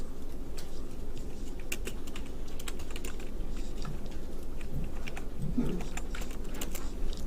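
Rapid typing on a computer keyboard, including presses of the B and Enter keys, heard as a steady close stream of crisp clicks over a low background hum.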